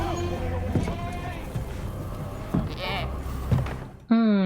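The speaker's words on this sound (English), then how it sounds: "It's a flock of goats to feed" A flock of goats in a House of the Dragon scene bleats repeatedly, wavering cries spaced a second or so apart under people talking, ending in one loud, close bleat.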